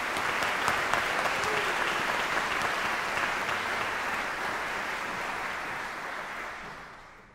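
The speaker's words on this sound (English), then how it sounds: "I think they deserve one more round of applause" Audience applause at the Peabody Conservatory commencement ceremony in May 2018, a broad, sustained roar of clapping from a large hall audience that holds steady and then fades out at the end.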